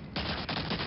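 Rapid gunfire from the World War II shooter Medal of Honor: Allied Assault, a burst of close, loud shots that crackle in quick succession, with a brief gap before the volley resumes.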